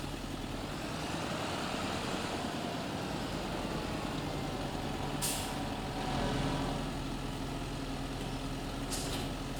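Tractor with a weeder attached is parked in a farming game, its engine droning steadily with a couple of sharp hissing bursts like air brakes near the end.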